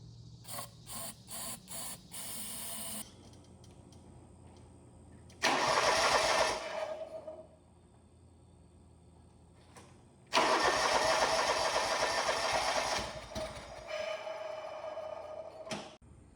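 A John Deere lawn mower with stale gasoline in its tank is cranked by its starter in two loud, sustained bursts of whirring turnover separated by quieter pauses, preceded by a few short clicking stutters, without catching clearly.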